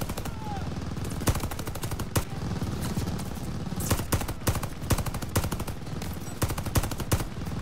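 Automatic gunfire rattles in the shooter Call of Duty Vanguard, set at the Battle of El Alamein, with loud rapid bursts of shots, short pauses between strings, and faint talk underneath.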